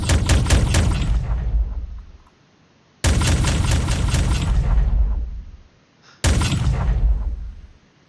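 Three heavy pulse cannon volleys from a ship in a multiplayer space game, each a loud, dense burst of rapid booming pulses lasting about two seconds before cutting off, with short gaps of quiet between them.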